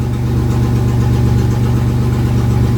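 A Chevrolet S-10 pickup truck engine idles loudly and steadily nearby, a deep rough rumble with a raspy, leaky exhaust drone from an exhaust broken off at the cab, constant throughout.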